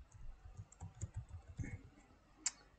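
Soft, fast tapping on a computer keyboard as an email address and phone number are typed, a quick irregular run of light clicks with one sharper keystroke near the end, close and quiet.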